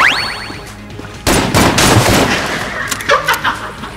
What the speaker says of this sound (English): I guess I'll use my shotgun for this